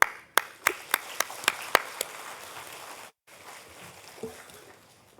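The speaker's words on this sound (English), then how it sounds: "you deserve the biggest clap as I take my seat" A handful of sharp, separate claps at an evenly spaced rhythm open the moment, then give way to a short silence and a quiet hall with faint rustles, at a state-level multi-stakeholder consultation on safeguarding the girl child.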